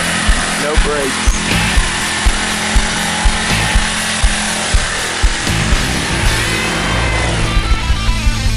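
A lawn mower go-kart engine running close by, a loud continuous drone with rhythmic knocks and thumps, with people talking over it.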